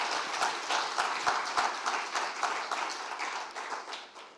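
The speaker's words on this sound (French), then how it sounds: "On peut vous applaudir." Audience clapping at a French talk on companies as a tool for farm business transmission, a dense, steady patter of hands in a hall that holds evenly across the whole stretch without voices.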